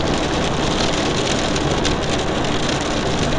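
Rain hits a car windshield treated with Rain-X while driving, a dense steady wash of fine drops over a continuous engine and road roar. The sound is loud and unbroken, with no voices.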